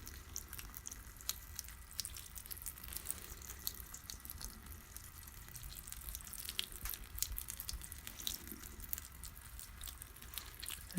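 Water trickles and drips steadily at close range as plants are watered by hand with a fertilizer mix, a faint continuous splashing with scattered droplet ticks and no voices.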